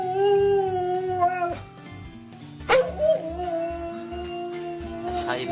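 A large dog howls near a crying baby, drawn-out wavering howls at moderate level with a brief sharp noise partway through and soft background sound.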